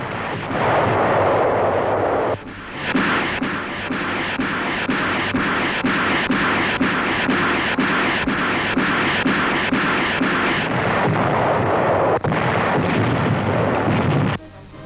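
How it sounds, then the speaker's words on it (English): Rocket barrages pounding shore defenses during the 1945 Okinawa landing, a loud, continuous rumbling roar of overlapping blasts with sharper bursts throughout, in muffled, narrow-band old-newsreel quality. "Terrific rocket barrages level shore defenses."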